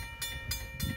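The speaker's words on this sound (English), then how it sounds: "It's gone into an emergency, and it's an extremely long train" A Norfolk Southern 288 freight train stopped in emergency, an extremely long consist, rumbles low and steady with rhythmic clanks and hissing bursts from the passing cars, heard close and continuous without talk.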